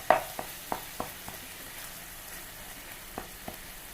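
Garlic paste fries with squid in a pan, a quiet, sparse crackle of scattered pops and small spits over a soft background hiss.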